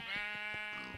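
A sheep bleats once in a video game, a short wavering nasal cry heard up close with no voices over it.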